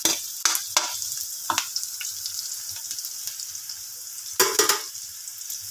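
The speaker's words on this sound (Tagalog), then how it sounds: "halo-haloin lang natin ating sibuyas at bawang hanggang mag-aromatic" Chopped onion and garlic sautéed in a pan while cooking chicken liver and gizzard adobo: a faint, steady sizzle broken by a few sharp scrapes and clatters of stirring.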